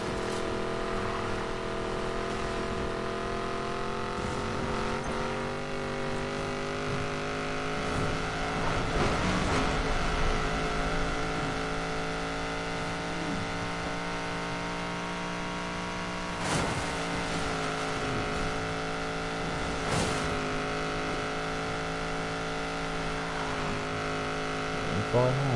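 A Koenigsegg Regera hypercar in the racing video game Need for Speed Payback drones with a steady, sustained engine tone and occasional sharper surges, under a player's intermittent talking.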